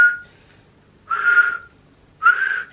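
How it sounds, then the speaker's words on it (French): Someone attempts to whistle, producing three short breathy whistled tones separated by pauses, close and fairly loud. "Vous avez vu que j'essaie de siffler et que je ne sais pas siffler."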